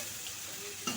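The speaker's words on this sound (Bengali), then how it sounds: "খুব ভালো করে কিন্তু নাড়াচাড়া করে এভাবে মিক্স করে নেব" Eggplant being stirred and mixed in a frying pan with fish for a Bengali bhetki fish oil chachori, a steady sizzle under a brief scraping clatter of the spatula near the end.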